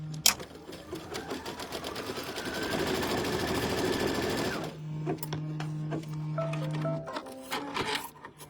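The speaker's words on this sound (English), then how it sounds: "Then we are going to stitch our next placement" A domestic sewing machine stitches a quilt block seam line in a fast, even whir for several seconds, then slows and stops, followed by lower hums and small clicks of the machine.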